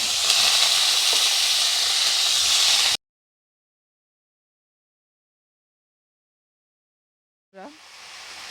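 Potatoes hit hot oil with bay leaves and five-spice in a heated wok for a Bengali vegetable dish, giving a loud, close hiss that cuts off into silence, then a brief voice and the sizzle returning.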